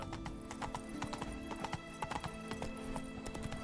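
Horse hooves clip-clopping in a steady galloping rhythm in The Witcher 3, with faint game ambience and music underneath.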